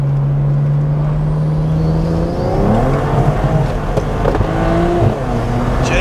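A 700HP hybrid-turbo N54 BMW 355i accelerates hard from a 40 mph roll, its engine note climbing loud and close through the revs, then briefly easing and pulling again without any talk.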